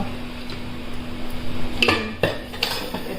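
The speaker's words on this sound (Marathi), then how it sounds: "गंज उचलून घेते मी" A metal cooking pot is lifted and set down in a home kitchen while balushahi is being made: a few separate clanks and scrapes against quieter kitchen background, with no talk.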